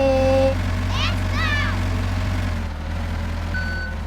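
A truck in the Roblox game hums with a loud, steady engine drone, joined by a few rising electronic chirps and brief tones near the start and end.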